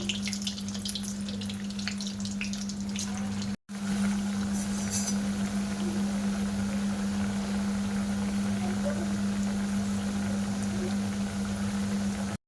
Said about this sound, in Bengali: এবার আমি মিষ্টিগুলো সব ভাজা করে নেব